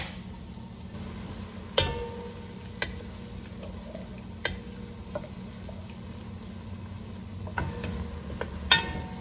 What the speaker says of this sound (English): we're just gonna stir occasionally. Come back and stir and stir and stir.